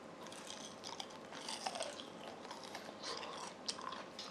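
Crunchy biting and chewing of homemade crispy fried chicken eaten by hand, with repeated close crackling crunches spread evenly through the moment, no talking.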